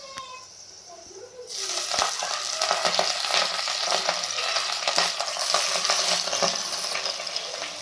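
Chandan batwa wild leafy greens drop into a hot pan with garlic at about 1.5 s, setting off a loud, dense, steady sizzle with scattered stirring clicks over the rest of the clip.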